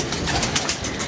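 Pigeons cooing in a loft, soft repeated coos mixed with rustling and a busy background, moderately loud and near.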